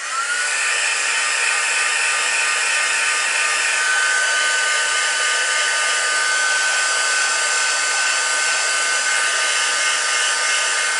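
A heat tool blows loudly and steadily at close range while heat setting embossing powder on a stamped card, a constant whooshing roar with a faint high whine and no talk.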